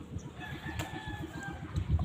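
Chickens cluck in a rural province yard, a soft run of low, rhythmic clucks close by, with a faint thin tone in the background.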